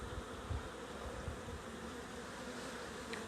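Honeybees hum in a dense, steady buzz, many insects flying close by around the hive, continuous and moderately loud.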